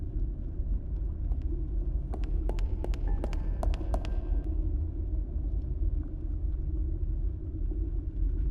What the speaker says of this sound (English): The statue's moving.